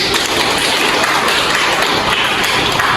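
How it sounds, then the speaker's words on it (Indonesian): A classroom of students gives a round of applause for a classmate, a dense, loud patter of clapping that fills the short stretch without pause. "aplaus dulu untuk teman"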